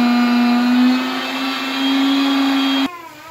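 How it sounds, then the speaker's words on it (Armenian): An electric kitchen mixer runs with a loud, steady motor whine that holds close and even for nearly three seconds, then cuts off abruptly into a quieter room. "Գիտեմ, որ ձեզ շատ հաճել է այս միքսերի ձայնը,"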